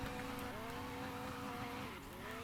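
Car drifting in the Prodigy Drift video game, a steady loud engine drone with continuous tire squeal sliding through a corner, dipping briefly near the end before building again.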